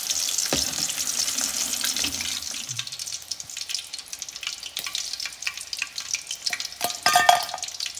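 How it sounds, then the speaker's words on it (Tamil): Chicken 65 deep frying in oil, a loud bubbling sizzle that thins out partway, followed by scattered scraping and clinking as pieces are lifted; nobody speaks. "இப்போ இன்னொரு சைடும் நல்லா ஃப்ரை ஆகிடுச்சு."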